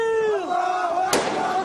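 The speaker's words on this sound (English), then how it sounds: "Chanting God is great" A crowd of armed tribesmen near Baghdad raises a loud, wavering chant of "God is great," with a sharp crack of gunfire bursting through partway in.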